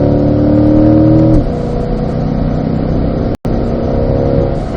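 A race car engine on the Spring Mountain track drones loudly and close, its pitch climbing then dropping at an upshift to fifth gear before building again, with a brief dropout near the end.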